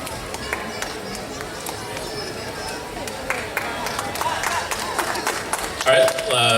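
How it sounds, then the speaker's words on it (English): Applause for a gold medal winner at a youth fest: a crowd claps steadily, the clapping swelling somewhat louder toward the end, with voices murmuring underneath. "let's go ahead and have a round of applause for him"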